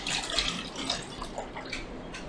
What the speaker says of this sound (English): So let me pour this out.